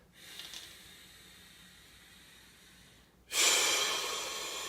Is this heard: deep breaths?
yes